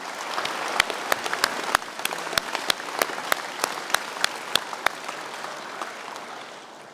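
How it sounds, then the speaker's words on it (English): Applause from the audience at a secondary school prizegiving for award recipients, a steady dense clapping throughout with a few sharp, louder claps standing out near the front, fading slightly toward the end. "Congratulations on this group of applause."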